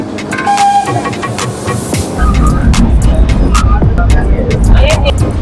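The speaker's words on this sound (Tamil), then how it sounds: "வண்டி ஸ்டார்ட் ஆயிடுச்சு" Ooty toy train pulling away from a station on its mountain line, a low rumbling drone of the engine and wheels rising and thickening midway, with people talking throughout.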